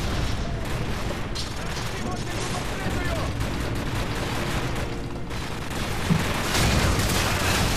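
Dense, continuous gunfire and explosions at a vehicle depot in Call of Duty 4: Modern Warfare, a steady loud barrage throughout with voices speaking over it.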